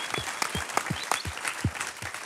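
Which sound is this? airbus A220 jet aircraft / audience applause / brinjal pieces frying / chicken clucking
audience applause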